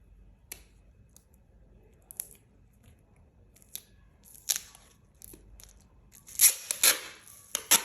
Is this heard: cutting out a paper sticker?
yes